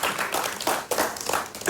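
Audience applause at a televised talk show, a continuous wash of many hands clapping with loose, uneven surges, moderately loud and steady throughout.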